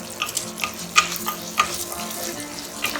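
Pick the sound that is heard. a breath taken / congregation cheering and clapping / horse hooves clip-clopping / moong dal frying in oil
moong dal frying in oil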